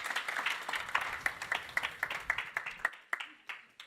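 Conference attendees applaud a rapporteur panel, scattered clapping at moderate level that thins into a few distinct, separated claps near the end.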